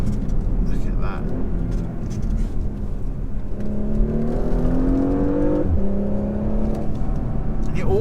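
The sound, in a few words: Porsche Macan S accelerating with PDK gearbox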